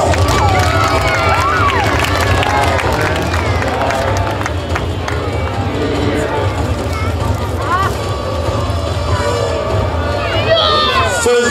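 A crowd at a knights' festival in Laxenburg cheers and claps in a continuous, lively roar, with shouts and a voice rising over the noise.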